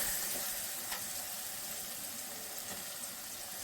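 Ground mustard and fenugreek powder with coconut sizzle in a pan for raw mango rice, a soft, steady frying hiss with faint occasional crackles and no voices.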